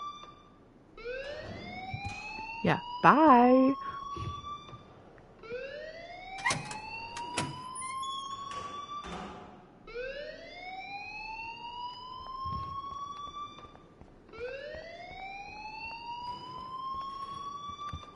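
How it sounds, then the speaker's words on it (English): In the video game Life Is Strange an electronic alarm wails in repeated rising sweeps, each lasting a few seconds, loud and close, with brief speech and other game sounds layered over it. "please turn off that alarm since that's your job"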